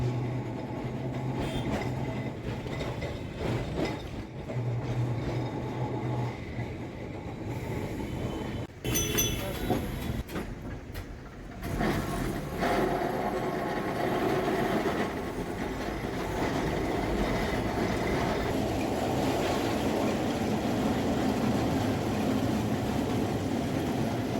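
A Kolkata tram running on its rails: a steady, loud rumble of wheels and carriage that goes on throughout, with brief squeals and clatter partway through and no talk.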